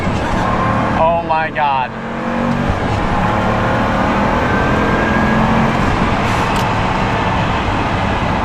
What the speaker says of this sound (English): So 6-liter twin-turbo V12, unlike the Zonda that absolutely screams like a straight-piped Murcielago, you pretty much hear nothing but